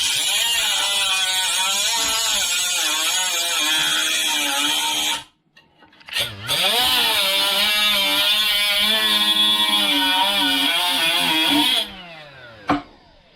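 A Walmart Hyper Tough 12v Max brushless die grinder whines steadily at high speed while cutting, with the pitch sagging under load. It cuts out briefly partway through, spins back up for a second long stretch, and ends with a short final burst.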